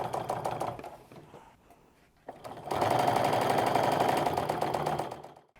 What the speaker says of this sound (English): I'm stitching as straight as I can